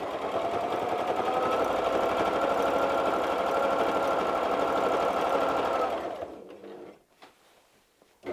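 A domestic sewing machine stitching free-motion quilted Easter egg motifs runs in a steady, close mechanical whirr for about six seconds, then stops, leaving a few light clicks and handling sounds.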